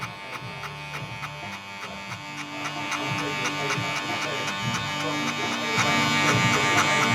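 Electric hair clippers with no guard and the blade open, trimming hair during a skin fade, a steady close buzz with a mechanical whine that grows slightly louder as the clippers work.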